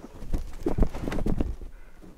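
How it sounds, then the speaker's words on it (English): Donkey hooves clop in a few close, uneven steps outdoors in New Mexico, with rough background noise around them. "That's a donkey, dude."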